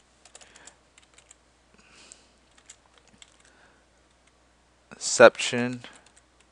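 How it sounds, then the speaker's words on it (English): Computer keyboard typing while entering Java code: sparse, quiet key clicks scattered across a few seconds in a quiet room, followed by a brief spoken word. "All we do over here is type in catch."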